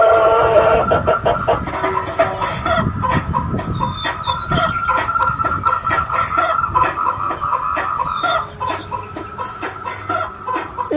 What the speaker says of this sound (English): That's the chicken machine.